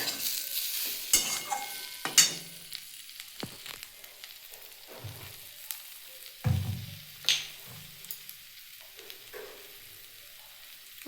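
Dried green chillies fry in oil with a soft crackling sizzle, broken by intermittent scraping and stirring knocks of a spoon against the pan, fairly faint and close.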